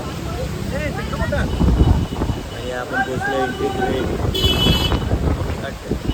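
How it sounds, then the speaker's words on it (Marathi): Strong stormy wind at the Ganpatipule coast buffets the microphone with loud, rumbling gusts. Someone talks over the wind throughout. "एवढं वादळ आहे ना इथे, काय बोलतोय बघा, गाड्या वगैरे बघा कशा हलत आहेत."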